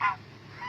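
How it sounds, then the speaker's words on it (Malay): A goose honks twice among ducks, loud nasal calls at the start and end of a brief moment, with quiet background between. "Ni, tik. Ni angsa."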